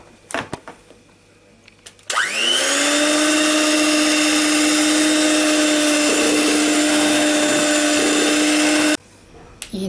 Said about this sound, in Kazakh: Енді осы қаймақты ұрып аламыз да ұнын сала береміз.